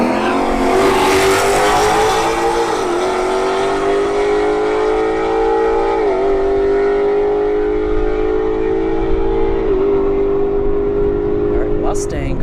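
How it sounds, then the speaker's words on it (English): Mini Cooper and S550 Mustang drag racing at a motorsports park, a loud sustained engine roar climbing through gear shifts with brief dips in pitch, a voice talking over it. "Got another Mini Cooper and a S550 Mustang."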